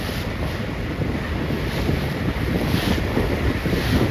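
Wind rushes steadily past a sailing boat on a roughly 10-knot breeze during a regatta, a constant close buffeting of microphone wind over water noise.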